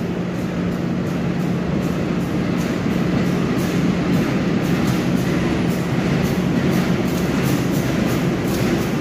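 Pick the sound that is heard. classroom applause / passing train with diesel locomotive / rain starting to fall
passing train with diesel locomotive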